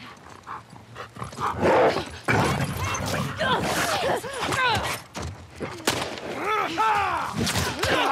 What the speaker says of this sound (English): Is that dogs? Yes, it very well is.